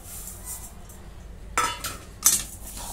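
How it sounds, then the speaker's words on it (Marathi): A spoon stirs sugar into sautéed mango in a pan over a low flame, giving two distinct metallic clinks and scrapes against a quiet background, close by and without speech. "आता हे सर्व मिक्स करून घेतलंय मी"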